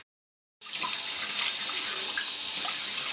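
Tap water runs steadily into a sink while a baby is washed at his first bath, a continuous close hiss that starts abruptly after a brief silence and carries on alone.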